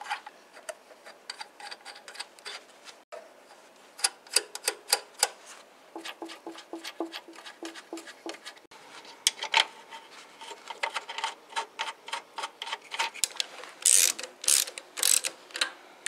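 A ratchet wrench clicks in quick bursts as nuts are tightened in turn on a Fiat/Ford 1.2 litre engine during a timing belt and water pump job, close and fairly quiet with short pauses between runs.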